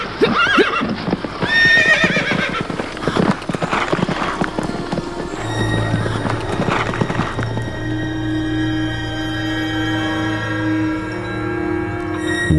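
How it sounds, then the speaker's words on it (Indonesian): Horses in a radio drama sound effect, with clip-clop hooves and loud neighing and whinnying up front, then galloping hoofbeats settling into a steady rhythm under a sustained tone. "Mari, kita berkuda bersama-sama."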